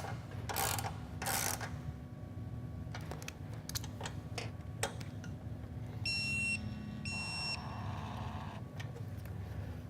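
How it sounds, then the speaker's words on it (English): A ratchet tightens bolts during installation of a Timbersled snow bike conversion chain, giving scattered clicks and short bursts of ratcheting, with a pair of high electronic beeps partway through, all fairly quiet. "We're going to tighten these two to finish the chain installation process."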